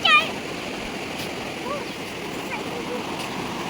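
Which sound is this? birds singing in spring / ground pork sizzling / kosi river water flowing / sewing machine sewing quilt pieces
kosi river water flowing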